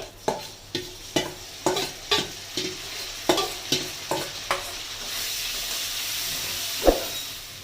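Masala paste with onions frying in hot oil for a Bengali fish dish, about a dozen sharp stirring scrapes at a steady beat under a rising sizzle that swells to a continuous hiss, then one louder clack near the end.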